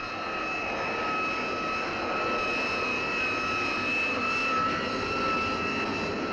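US Navy jet fighter engines roar on the deck of the aircraft carrier USS Franklin during catapult launches, a loud, sustained jet whine with a steady high tone that swells slightly, heard alone.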